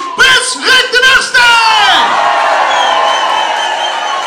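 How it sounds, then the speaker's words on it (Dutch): Crowd cheering and whooping for a newly proclaimed carnival prince of De Wiendbuul, with loud shouts in the first moments, then a sustained roar of voices and whistles filling the hall. "Geef hem meteen een applaus, prins Rick I!"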